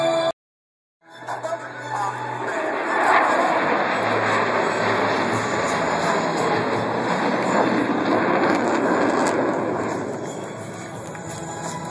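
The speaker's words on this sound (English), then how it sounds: "Lieutenant Colonel Mosley calls for the 4 Diamond pilots to perform simultaneous aileron rolls in close formation" Thunderbirds jets flying close diamond formation aileron rolls at an airshow in Rhode Island, a loud sustained roaring rush of jet engines that swells and holds, with wind buffeting at the microphone.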